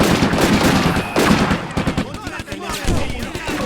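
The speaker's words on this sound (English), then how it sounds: "We need that Hotchkiss constantly firing. I don't care how hot this thing gets, just keep on shooting." A Hotchkiss machine gun firing in the Combat Mission: Afrika Korps game, loud rapid bursts merging with other dense gunfire and explosions in a continuous battle din.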